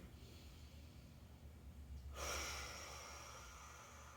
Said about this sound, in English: I'm going to take another big 360-degree rib cage, back and belly breath, all of it moving together